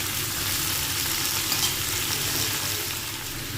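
Ginger and panch phoron spices sautéing in hot oil give a dense, continuous close sizzle with soft stirring beneath, steady and unbroken.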